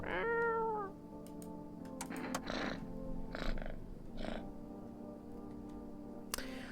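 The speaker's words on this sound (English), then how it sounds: "Pretty cat. Can I stroke the pretty cat?" A cat meows in the video game No I'm Not a Human: one clear falling meow at the start, then several shorter, fainter mews and chirps spaced over a quiet, low background hum.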